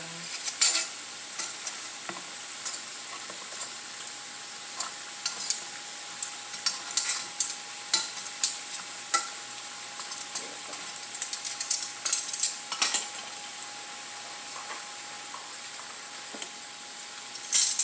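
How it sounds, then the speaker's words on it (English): Garlic fries in a pan over medium heat, a continuous fine crackle and sizzle with frequent sharp pops and stirring clicks scattered throughout, close and fairly quiet, without talk. "The garlic's nice and cooking."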